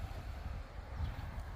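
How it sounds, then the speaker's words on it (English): Wind blows outdoors on a farm on a hot, sunny morning, a low, steady rumble of gusts buffeting the microphone, moderately loud and continuous with no voices. "A little bit windy."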